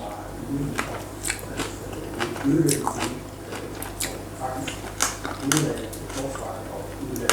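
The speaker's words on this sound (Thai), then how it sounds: "ต้องรีบกินตอนมันอ่อนๆเนี่ยคืออร่อยนะคะ" Raw wild garlic being bitten and chewed close up, repeated crunchy bites and wet chewing with soft murmurs of enjoyment between them.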